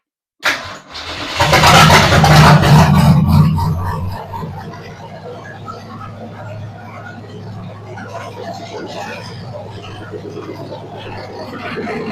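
An old 1960 Ford Falcon Tri-Power six-cylinder engine cranks briefly and then catches, roaring loudly for a couple of seconds before settling into a steady, rumbling idle nearby.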